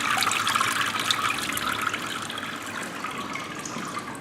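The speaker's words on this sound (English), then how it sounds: "Notice how the water is draining out the bottom and the pulp is remaining on the top of the screen of the mold." Water drains steadily through the screen of a papermaking mold and deckle, leaving pulp behind, a close rushing splash that slowly eases off.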